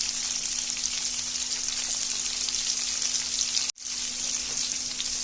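Potatoes half-frying in a pan with salt and turmeric for an Assamese pork curry, a steady close crackling sizzle with a faint steady hum, briefly cutting out for a moment before resuming.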